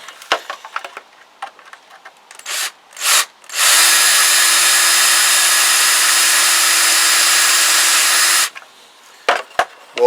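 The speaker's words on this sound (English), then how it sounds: "So these have got to be drilled out." A power drill bores out rivets on a Kawasaki GPZ500S motorcycle in one loud, steady whine lasting about five seconds, framed by short clicks and taps before and after.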